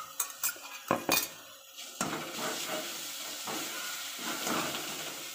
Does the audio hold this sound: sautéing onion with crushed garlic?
yes